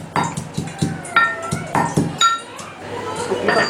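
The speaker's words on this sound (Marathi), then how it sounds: "लसूण म्हणजे मस्तपैकी भरपूर असा लसूण घेतलेला आहे तो मस्तपैकी टेचून घ्यायचा आहे" Plenty of garlic is pounded in a mortar, with about ten steady, evenly spaced thuds that each carry a bright metallic clink. The strikes are close and fairly loud.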